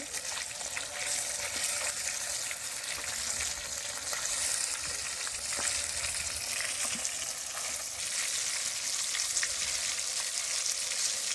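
Steady sizzling of catla fish frying in hot oil, a continuous crackling hiss with small pops, close and without talk.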